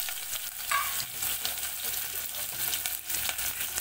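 Onion, spices and chickpeas for a dehati-style ghugni fry in a pan with a continuous crackling sizzle and occasional stirring scrapes, close up and with no talking.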